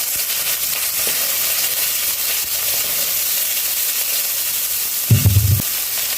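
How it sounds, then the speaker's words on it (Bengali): Cut eggplant pieces fry in oil in a kadai, a steady bright hiss that swells into a short, louder crackling burst near the end. "এরপর কড়াইতে যে তেল আছে ওই তেলের মধ্যে আমি এই যে কেটে ধুয়ে রাখা বেগুনগুলোকে দিয়ে দেবো।"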